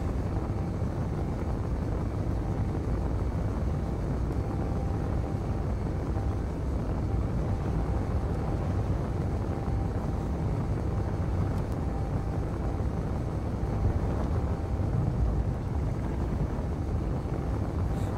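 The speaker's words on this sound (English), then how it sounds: "we're going to turn on the primary thrusters" Primary thrusters of a Space Engineers spaceship, a steady, broad roar that holds at an even loud level throughout with no breaks and no talk.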